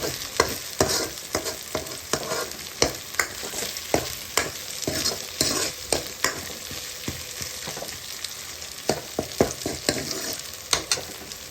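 Onion and ginger garlic paste sauté in a pan for a chicken gravy, with a steady sizzle of frying broken by repeated scraping stir strokes, close and clear, with no talking.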